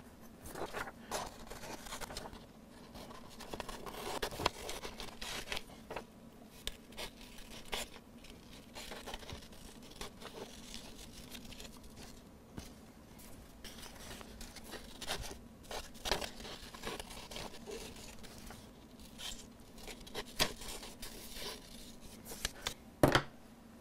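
Scissors cut out a paper template for a USB MIDI footswitch box, giving faint, close snips, crinkles and paper rustles in an irregular stop-start rhythm over several seconds, with no talking.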